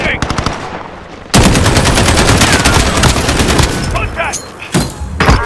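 Rapid automatic gunfire in Call of Duty: Modern Warfare during a Plunder match, sparse shots at first, then a sustained loud burst of machine-gun fire with explosions, and brief voice callouts in between.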